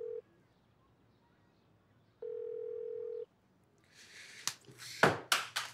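A steady electronic dial tone sounds briefly, stops, then returns for about a second; afterward come a few sharp clicks and knocks.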